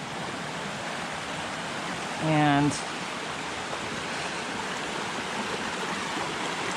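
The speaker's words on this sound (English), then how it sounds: "This is our first crossing of Connor Brook." Connor Brook rushes in a steady, broadband wash at a trail crossing on a New Hampshire hike, close and continuous, while a voice briefly speaks over it.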